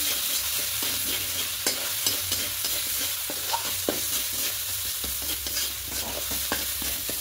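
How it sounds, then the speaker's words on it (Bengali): Ground cumin, coriander and Kashmiri chili powder get stirred together in a hot pan for fish fry, producing rhythmic close scraping strokes over a constant background sizzle. "ধনিয়া গুঁড়ো দেব, কাশ্মীরি লঙ্কার গুঁড়ো দেব, দিয়ে খুব ভালো করে মিশিয়ে নেব"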